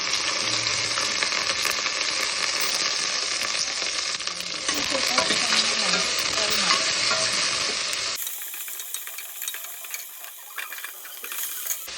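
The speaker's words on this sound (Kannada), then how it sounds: "ಶುಂಠಿ ಬೆಳ್ಳುಳ್ಳಿ ಪೇಸ್ಟ್ ಹಾಕ್ತಾಯಿದ್ದೀನಿ. ಲವಂಗ ಹಾಕಿದ್ದು ಫ್ರೈ ಮಾಡ್ತಾಯಿದ್ದೀನಿ." Cloves and ginger garlic paste frying in a pan, with a loud, continuous close sizzle and stirring scrapes for about eight seconds before it drops abruptly to a fainter crackle with light clinks.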